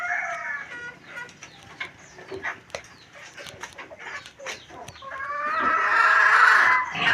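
Roosters and hens on a rural perch, with a crow and bursts of clucking rising into a loud, sustained crowing call near the end, plus scattered nearby squawks and chatter from the flock.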